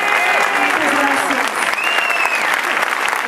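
Loud, dense audience applause fills the space at a school concert, steady throughout with faint voices and a crowd murmur mixed in.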